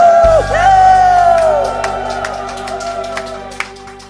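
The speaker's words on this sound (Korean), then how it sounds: "여러분 박수 소리치고" Audience at a live Korean trot performance shouts and whoops, a loud crowd burst with scattered sharp claps trailing off, a sustained voice tone ringing over it at the start.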